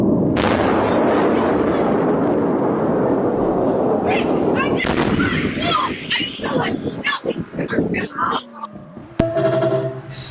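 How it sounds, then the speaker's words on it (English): A missile explosion in a video game: a long, loud roaring blast rumbles for several seconds, then breaks into scattered bangs and crackles while players shout excitedly over it. "Whoa! Missile! Missile!"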